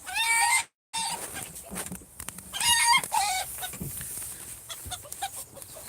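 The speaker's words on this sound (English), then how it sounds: "Sounds like Mr. Cockerel is horny." A cockerel crows and clucks close by in a backyard plot, several loud warbling calls broken by a brief silent gap, followed by quieter clucks and scratching noises.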